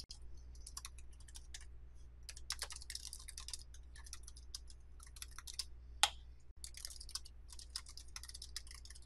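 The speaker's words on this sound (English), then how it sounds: "type what the presenter is saying in the text box below" Computer keyboard typing in steady bursts of quick, fairly quiet key clicks with short pauses, one sharper click standing out partway through, over a low constant hum.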